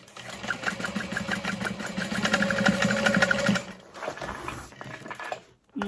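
A sewing machine runs in a steady fast stitching burst as it sews a bag's lining from seam to seam, then slows and stops before a brief pause and restart.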